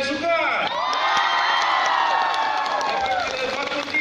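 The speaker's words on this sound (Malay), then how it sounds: "Saya nak dengar sedikit sorakan daripada Fakulti Sains Sukan" A university hall crowd of students cheers and whoops loudly for their faculty, with many overlapping high shouts and yells swelling and holding across the whole stretch.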